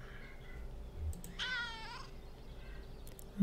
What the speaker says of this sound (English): Nosy meow.